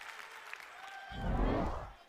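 Crowd at a Rutgers college wrestling dual against Ohio State swells into cheering and applause, building loudly in the second half after a quieter start.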